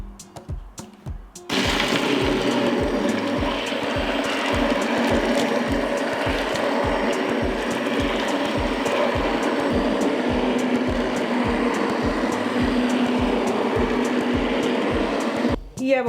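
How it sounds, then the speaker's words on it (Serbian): An immersion stick blender purees plum jam that has been cooked for an hour. A loud, steady motor whir starts abruptly, runs for about fourteen seconds and then cuts off. "I sada ću šljive usitniti sa štapnim mikserom."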